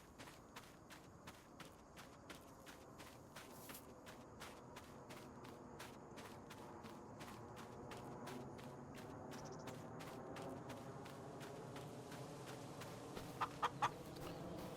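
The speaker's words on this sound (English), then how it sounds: "we have a total of 20 chickens in here" Twenty chickens clucking inside a coop tucked in the woods in the video game Farming Simulator 25, a steady chorus of soft overlapping clucks with rhythmic footstep-like ticks, fairly faint and unbroken.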